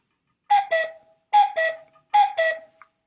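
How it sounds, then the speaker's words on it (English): A cuckoo call instrument sounds three times, each a clear two-note falling "cu-coo" with short pauses between, loud and close. "The cuckoo."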